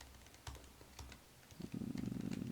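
Keys clatter on a computer keyboard in quick, soft bursts, close and quiet, with a denser run of keystrokes toward the end.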